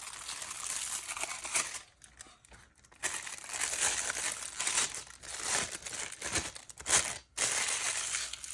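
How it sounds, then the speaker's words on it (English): A plastic piping bag crinkles and rustles loudly up close in irregular bursts with brief pauses while being handled for an epoxy resin tray project. "I am going to use a piping bag."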